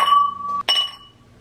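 Two glasses of a poured drink clink together in a toast, a bright ringing chime that rings out, breaks briefly, then rings again and fades, close and clear with no talk.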